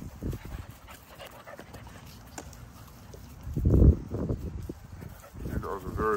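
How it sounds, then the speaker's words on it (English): Several lilac tri dogs pant close by in quick rhythmic breaths, with bursts of scuffling and movement, while people talk in the background. "These dogs are very beautiful."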